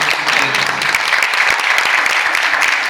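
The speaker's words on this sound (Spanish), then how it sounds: "un aplauso para Chela, la producción de esta presentación" A crowd applauds for the production crew at a theatre presentation, steady close clapping from many hands throughout, a faint voice briefly under it at the start.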